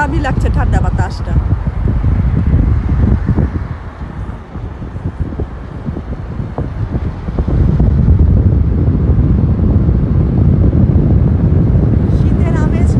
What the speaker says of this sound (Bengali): ঠান্ডা শীতল বাতাস, শীতে গাড়ির জানালা খুলে ভিডিও করছি